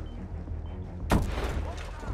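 A fragmentation grenade blows up in Hitman 2, a single sharp close blast about halfway through followed by a brief rumbling decay, over faint game ambience.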